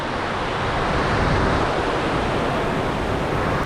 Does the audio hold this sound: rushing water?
yes